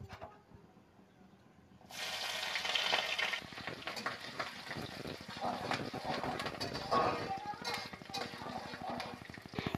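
Green chilli and chopped ginger hit hot oil in a pan, a sudden broadband sizzle that starts partway through and keeps crackling with stirring clatter, loud and close, over quieter earlier kitchen noise.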